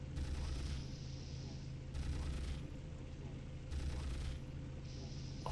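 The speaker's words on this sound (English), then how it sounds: "Very dangerous turrets." Automated turrets firing in the shooter Mortyr 2093-1944, bursts of low heavy gunfire repeating roughly every two seconds over a steady rumbling background, loud and close.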